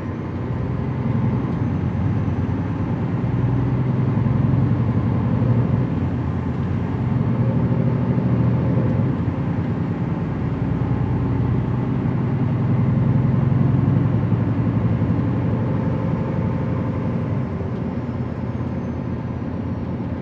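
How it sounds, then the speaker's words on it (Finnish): Scania truck engine drones steadily from inside the cab, a constant low-pitched rumble with no breaks or revving across the whole stretch. "mä lähdin heti testaa sitä mikrofonia nauhoittamalla Scanian moottorin ääntä, eli sitä mitä se kuulostaa tuolla ohjaamossa"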